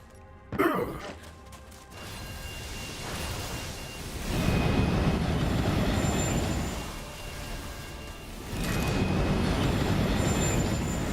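A monstrous train beast in Borderlands 3 rumbles and roars with a sharp crash near the start, then a heavy, sustained mechanical grinding that swells and fades in waves.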